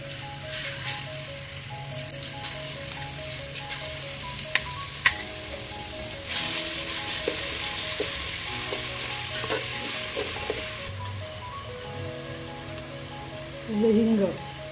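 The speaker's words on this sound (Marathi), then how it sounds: "आता तेल गरम झालंय. आता आलं लसूण पेस्ट टाकून घेऊया." Ginger-garlic paste hits hot oil in a pan and sizzles in a steady crackle, overlaid by tonal music, occasional clinks, and a voice speaking.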